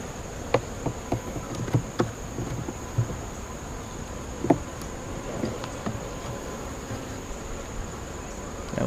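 Honeybees in an opened hive hum continuously at close range, with scattered brief clicks and taps from the frames being handled.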